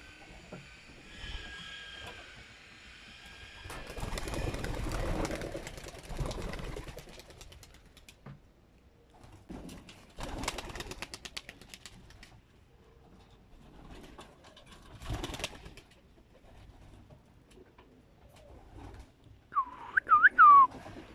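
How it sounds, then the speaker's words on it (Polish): Pigeons coo softly now and then amid rustling, shuffling and wing flutters inside a loft, with a few brief whistles and clatters near the end. "O, tu już chodzą gołębie"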